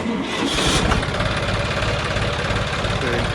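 A diesel tractor engine cranks and catches, settling into a loud, rough idle up close for a few seconds.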